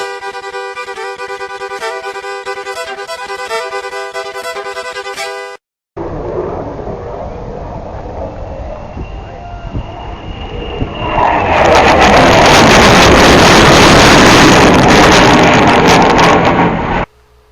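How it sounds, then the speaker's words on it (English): An F-18 fighter jet flies past at the Detroit hydroplane races, its roar rising from a distant rumble into a loud, broad blast over several seconds after a short musical intro, then cutting off. "That was an F-18."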